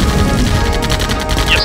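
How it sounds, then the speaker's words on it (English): Airstrike explosions in Command & Conquer on the Nintendo 64, a loud continuous barrage of rumbling blasts and crackling bursts packed closely together, with no talk. "Airstrike."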